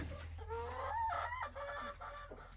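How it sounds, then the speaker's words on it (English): Several chickens squawk and cluck while pecking at grain on a family farm, their calls faint and overlapping in a short run of clucks. "I'm not sure what they're squawking about."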